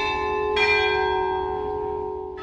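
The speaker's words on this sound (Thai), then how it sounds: "เสียงที่คุณจะได้ยินจากตรงนี้ก็คือเสียงระฆัง แต่เป็นระฆังที่พิเศษมากแล้วก็หาชมยากจริงๆ" Carillon bells ring at Santa Cruz Church in the Kudi Chin community, with a sustained ringing tone and two fresh bright strikes layered over it, close and resonant, with no voices.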